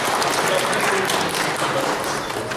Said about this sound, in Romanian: Deci puteți aplauda și pe dânsul.